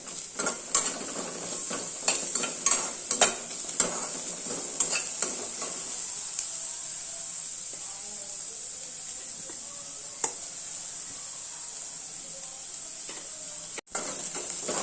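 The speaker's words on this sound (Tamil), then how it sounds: "இப்போ இந்த தாளிப்பெல்லாம் நல்லா வதங்கிடுச்சு." A South Indian tempering sautés in a pan with a steady crackling sizzle, broken by clicks and scrapes of a spoon stirring it, louder in the first half and quieter afterward.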